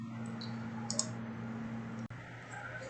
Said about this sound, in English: So I'll just click OK there.